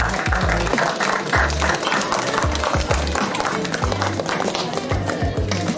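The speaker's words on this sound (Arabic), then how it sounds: "تصفيقة" Applause at a reception honouring young prize-winning talents in Tizi Gheniff: a crowd claps steadily and densely throughout, with a murmur of voices and other noise underneath.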